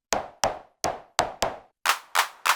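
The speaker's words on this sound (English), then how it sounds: "You can even put some claps." Clap sound from a Roland TR-06 drum machine, sharp synthetic hand-clap hits in a steady sequence of eight, the last three brighter and noisier, each decaying quickly into silence.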